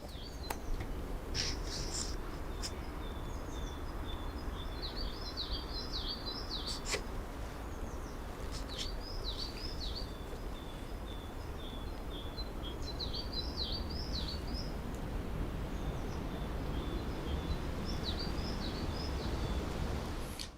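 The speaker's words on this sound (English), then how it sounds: "that one is called a great tit" A great tit repeats a high, bright two-note phrase in short bursts over steady outdoor background noise, moderately distant.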